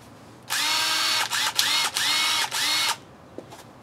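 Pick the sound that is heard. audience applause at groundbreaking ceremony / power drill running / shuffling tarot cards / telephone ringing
power drill running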